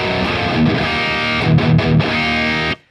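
Electric guitar played through a PolyChrome DSP Nunchuck pedal set to its Green Mamba distortion, a thick sustained distorted chord with a few brief accented notes, loud and alone, cutting off abruptly near the end.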